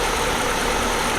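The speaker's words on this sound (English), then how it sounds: "You can see the idling is not that smooth." A car engine idles unevenly while warming up, hunting around 1100 RPM before settling lower; a steady, close rumble with a slightly wavering tone runs the whole time.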